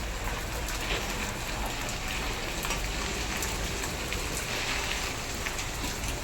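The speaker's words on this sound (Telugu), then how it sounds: "వర్షం ఎక్కువైపోయింది" Heavy rain pours outdoors in a dense, loud, unbroken roar of drops on surfaces, steady from start to finish with no voices.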